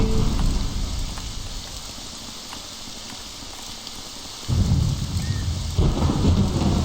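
In the video game Morrowind, steady rain pours down with distant rumbles of thunder, the downpour swelling louder toward the end.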